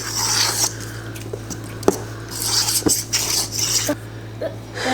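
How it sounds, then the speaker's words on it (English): Homemade pizza dough being stirred with flour in a bowl, close scraping and soft sticky swishes with occasional knocks of the utensil against the bowl. "So we're just going to keep stirring this, and I think that we're going to be close here."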